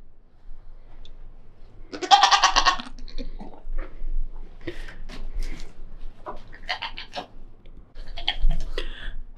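Goats bleat several times at close range, a loud wavering cry followed by shorter, softer bleats, with some shuffling noise in between.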